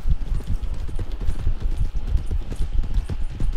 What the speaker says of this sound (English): See, I got two horses following each other.